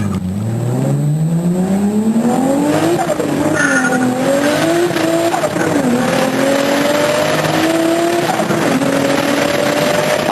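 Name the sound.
car being driven hard giving someone a ride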